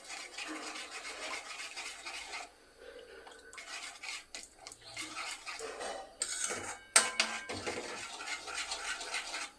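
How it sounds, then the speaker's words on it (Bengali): A utensil scrapes and clinks steadily in a pan while semolina pulao with vegetables is stirred over high heat, close and fairly quiet, with sharper knocks against the pan toward the end. "আঁচটা জোর করে দিয়ে নাড়তে হবে, দলা পাকিয়ে যাতে না যায়।"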